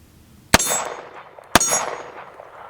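A Girsan Witness 2311 pistol fires two sharp, loud shots about a second apart, each followed by a ringing metallic decay, with no talk.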